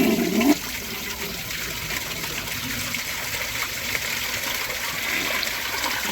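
A toilet flushes with its top siphon jet clogged, a loud rushing gush at the start settling into a steady hiss of draining water that continues to the end, with no talking.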